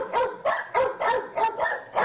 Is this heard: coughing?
no